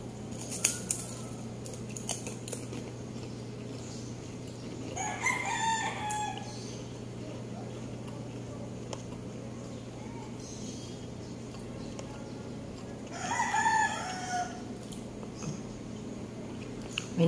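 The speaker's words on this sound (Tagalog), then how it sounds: "May naririnig ba kayo yung tilaok ng manok?" A rooster crows twice in the distance, spaced several seconds apart, over a steady background hum and scattered clicks.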